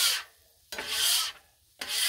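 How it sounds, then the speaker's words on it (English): A metal scraper is pushed across a wet Blackstone griddle in three close, rasping strokes, each a short scrape with brief quiet gaps between them. "A little bit of water. A little bit of scraper."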